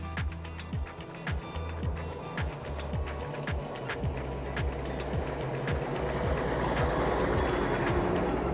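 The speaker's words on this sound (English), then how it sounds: "now a tram" A tram rumbling past at Beamish Museum with steady low mechanical drone and rhythmic clacks of wheels over joints, growing slightly louder toward the end.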